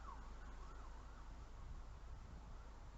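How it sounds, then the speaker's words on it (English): A siren wails faintly in the distance, its pitch rising and falling, beneath a constant low hum of traffic and background noise. "And listen to the siren."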